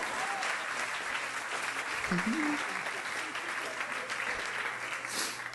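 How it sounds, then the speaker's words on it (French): A comedy-show audience applauding steadily for over five seconds, a dense even wash of clapping with a voice briefly heard over it. "allez-y, applaudissez"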